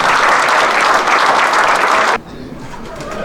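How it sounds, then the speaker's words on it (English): Dense applause from a banquet audience fills the room for about two seconds, then cuts off abruptly, leaving quiet room tone. "Let's give these all people a round of applause."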